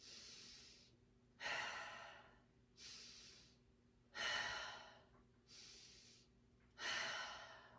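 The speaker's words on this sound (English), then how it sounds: "So inhale, drop, exhale, lift." Slow diaphragmatic breathing during an exercise routine: three soft inhales alternate with three stronger, longer exhales, each lasting about a second, close and steady with no talking.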